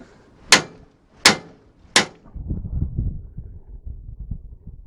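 Hammer blows on a seized front hub of a classic Austin Mini: three sharp metallic strikes about a second apart, close and loud, followed by low rumbling handling noise.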